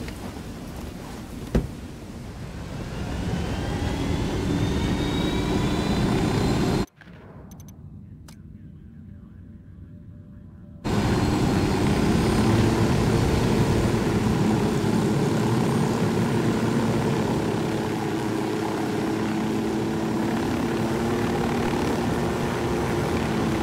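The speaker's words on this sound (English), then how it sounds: "Drone is airborne." A drone in the video game Ghost Recon Wildlands lifts off and flies with a steady, loud propeller whine and engine drone that runs throughout, broken by a short dip partway through before resuming at full strength.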